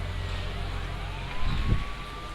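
An ambulance siren in the Bus Simulator Indonesia video game wails faintly in a steady tone over low engine rumble, with a brief louder thump near the end.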